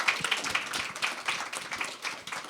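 A New York Fashion Week audience clapping steadily after a runway show, a dense patter of many hands applauding together, fairly close and loud throughout.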